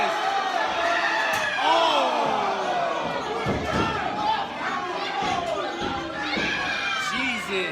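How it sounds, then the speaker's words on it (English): A wrestling match crowd yells and shouts in a loud, continuous roar of many voices, rising in excited bursts while a commentator talks over the din. "we got the crowd over here yelling now"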